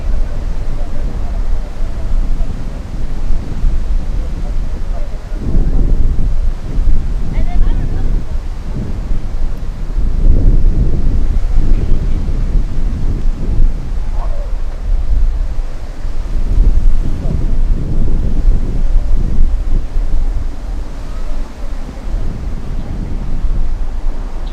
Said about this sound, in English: The wind has considerably picked up right now.